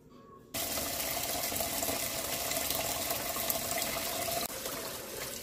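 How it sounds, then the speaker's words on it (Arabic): Tap water running steadily into a sink while rice is washed, a loud continuous gush that starts abruptly and drops slightly near the end. "هسه ان شاء الله خلي اغسل التمن، التمن ما راح انقعه بس راح اغسله"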